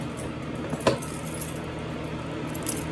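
A bunch of keys fidgeted in the hand gives a few light metallic jingles and clinks, one clearer jangle near the start and a faint one near the end, over quiet room noise with no talk.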